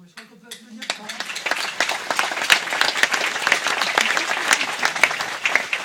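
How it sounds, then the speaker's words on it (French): An audience breaks into applause after an entrepreneurship talk, starting sparse with a few near claps and a brief voice, then swelling into full, sustained clapping from the whole room. "je crois qu'on peut applaudir"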